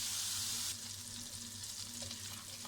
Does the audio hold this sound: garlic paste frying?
yes